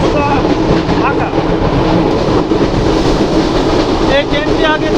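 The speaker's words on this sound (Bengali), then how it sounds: "তবে এই ট্রেনটি অত্যন্ত দ্রুতগামী একটি ট্রেন।" The Benapole Express, a fast intercity train in Bangladesh, rolls along the rails with a loud continuous rumble and rattling clatter, heard close from on board, with faint squeaks and voices in the background.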